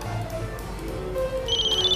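A telephone rings indoors, its electronic tone steady and fairly loud, with a bright high warble strongest near the end; no one speaks over it.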